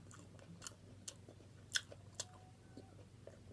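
Close, quiet chewing of chicken gizzards during a home mukbang meal, with soft crunchy bites and irregular mouth clicks over a low steady background hum.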